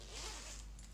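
A zipper on a zip-in wig is pulled closed in one continuous, close, quiet zip lasting about a second, with no voices.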